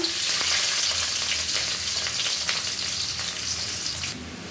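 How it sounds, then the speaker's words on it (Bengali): Onions and bay leaves fry in hot oil with a loud, steady, close sizzle that carries on without a break and without any talk. "দেখো পেঁয়াজ ভাজা হয়ে গেছে"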